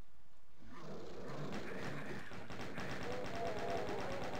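Rapid gunfire from Doom II, with dense repeated bursts and low thuds layered over continuous game noise and a steady background roar.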